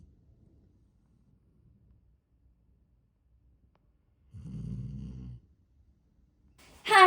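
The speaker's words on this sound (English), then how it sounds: "That's Timber snoring that you hear" A Labrador snoring indoors gives one low, rough snore of about a second, set within long quiet stretches and faint breathing, followed at the end by a brief louder noise.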